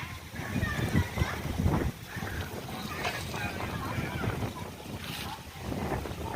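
Wind gusts outdoors at a family Holi gathering in Nepal, a rumbling buffeting roar that swells and eases throughout, with voices talking beneath it.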